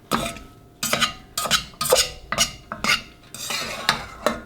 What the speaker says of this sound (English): our quinoa is cooked, and we've already let it cool for 5 minutes. So we're going to fluff it with a fork